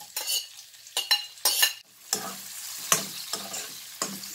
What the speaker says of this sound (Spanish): vamos a poner un poquito de aceite de oliva para hacer nuestro sofrito, en el cual lleva cebolla